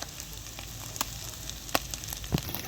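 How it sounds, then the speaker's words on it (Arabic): Meat frying in a pan with garlic and peppers, a steady close sizzle and crackle with a few sharper pops and stirring scrapes throughout. "شايفين كيف اللحمة عم تنقلي قلي؟"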